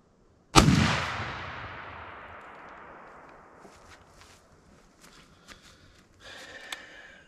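A single loud 12 gauge shotgun blast, fired after a misfire, rings out close and then decays slowly over a couple of seconds, followed by faint rustling and handling sounds.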